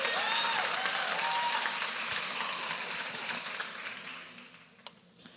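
A church congregation applauds steadily, a dense wash of clapping that gradually fades out toward the end, with faint voices underneath.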